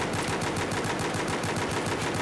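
QSZ-92 pistol fired repeatedly in a video game, a rapid, continuous string of evenly spaced gunshots, loud and close, with no pauses between rounds.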